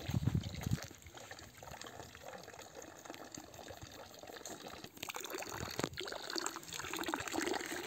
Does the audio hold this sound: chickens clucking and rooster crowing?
no